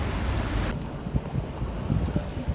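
Strong wind blows across a riverbank shore during mudlarking, a loud, rushing roar buffeting the microphone that eases after the first moment into a steadier, lower gust with soft thumps.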